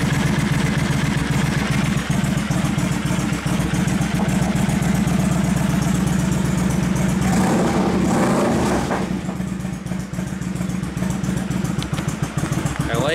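A motorcycle engine idles steadily after its carburetors were cleaned, a continuous close rumble with a rough texture that shifts briefly around the middle, with faint talk underneath.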